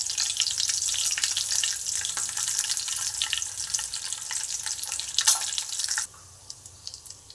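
Cumin, garlic and curry leaves frying in hot oil, heard as a bright, crackling sizzle that is loud and close, then drops off suddenly near the end.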